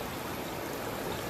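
A river stream flows steadily beside an outdoor cooking spot, giving a soft, even wash of rushing water with no breaks for the whole short stretch.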